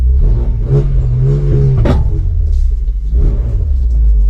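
A car engine with an aftermarket exhaust rumbles loudly and deeply, revving up and down with a throaty, aggressive exhaust note close by.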